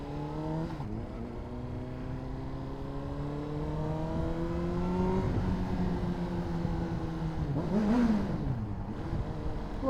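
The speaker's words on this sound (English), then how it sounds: "Little rev under the bridge." Honda CBR600RR motorcycle engine on the road, a steady high-pitched inline-four drone rising in pitch through gears, with brief drops at shifts and a short rev swell near the end, loud and constant under wind noise.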